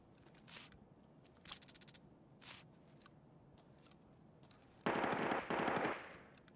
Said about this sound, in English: Okay, we hear shooting.